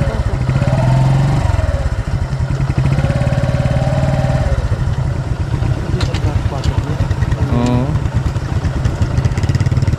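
A motorcycle engine runs loud and close throughout, with shifting revs and a clattering mechanical rumble, while people talk over it.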